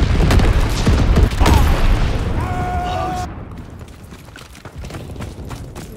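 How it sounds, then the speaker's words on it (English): Heavy booming blasts from incendiary bombs dropped by an enemy bomber in Call of Duty WW2 multiplayer, loud rumbling bursts that fade into quieter scattered impacts, with a brief radio voice over them. "Enemy bomber. Incendiary bombs incoming."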